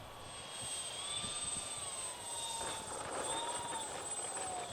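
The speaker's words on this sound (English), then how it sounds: "with the propellers realistically droning away, flying bumps and circuits." Twin propellers of a DHC-6 Twin Otter in the X-Plane flight simulator drone steadily and close, a continuous engine hum with faint whining tones flying circuits.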